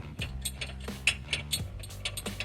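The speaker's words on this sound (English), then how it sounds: "Go ahead and remove this bolt." A ratchet wrench works loose a pulley bolt on a Chrysler 3.5 L engine, giving a rapid run of close metallic clicks over a low steady hum.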